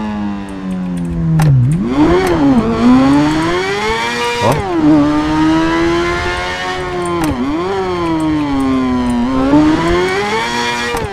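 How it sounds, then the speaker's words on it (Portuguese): A motorcycle engine in a video game roars loudly and close, its pitch rising and falling as it revs repeatedly, with brief dips between surges. "a moto berra demais"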